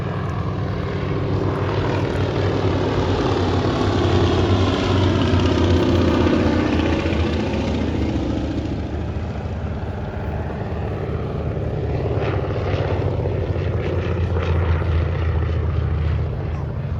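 At an airshow in Leszno, a PZL M18 propeller aircraft drones loudly and steadily overhead. Its engine roar swells and shifts slightly as it flies past.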